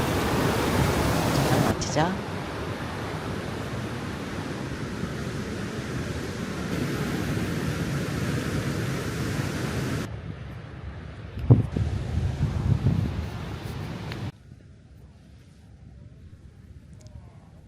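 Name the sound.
ocean waves on the beach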